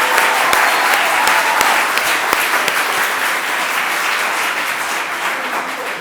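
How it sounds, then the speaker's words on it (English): Applause from an audience at a showcase event honoring innovators, a dense and steady clapping that holds strong for several seconds and fades slightly toward the end. "Let's give another round of applause for the innovators."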